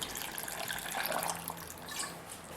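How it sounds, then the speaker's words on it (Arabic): Water poured from a container onto chopped carrot, potato and beetroot for a vegetable juice, a close continuous splashing trickle that swells and ebbs briefly. "غنضيف الماء"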